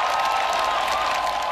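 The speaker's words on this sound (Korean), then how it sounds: "박수 소리" Dense crowd applause at a Pyeongchang Winter Olympic bid gathering, a brief, steady wash of many hands clapping at once, loud and without pauses.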